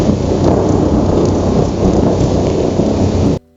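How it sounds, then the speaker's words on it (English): Synthetic thunderstorm: a loud, continuous roar of heavy rain mixed with deep rumbling thunder, sustained at full strength until it stops suddenly at the end. "or thunder and lightning."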